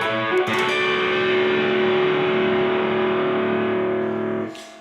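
Electric guitar with distortion slowly playing a riff, a raked chord ringing out loud and sustained for several seconds before cutting off.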